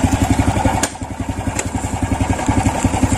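A motorcycle engine runs close by in a rapid, steady pulsing putter, loud and even, with a couple of brief sharp clicks over it and no talk.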